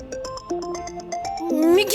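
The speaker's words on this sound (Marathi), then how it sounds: "दाजींचा फोन तर आतमध्येच वाजतोय." A mobile phone rings inside a house with a repeating electronic ringtone melody that swells toward the end, loud and close, with no talk over it.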